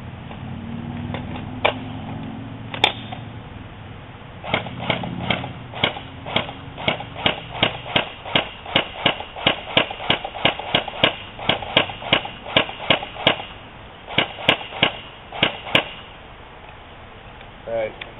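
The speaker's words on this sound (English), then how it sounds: "I'm going to start with the gun in semi, try to take about 20 shots or so." ECHO 1 E90 airsoft gun firing on semi-automatic at targets, roughly two dozen sharp, distinct shots in a steady, unhurried rhythm, close to the microphone, with faint handling noise before the shots begin.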